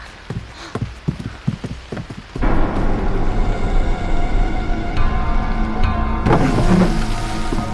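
Heavy rain pours down, starting as scattered hard drops and then swelling into a loud, dense, continuous downpour that grows even harsher near the end.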